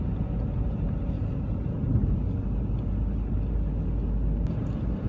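Steady low rumble of road and engine noise inside a car driving with heavily misted-up windows, continuous and moderately loud with no talking.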